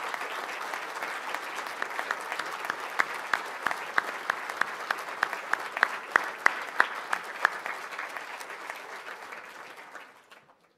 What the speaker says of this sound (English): I'd invite your family and your friends now to applaud your achievements in the past 18 months.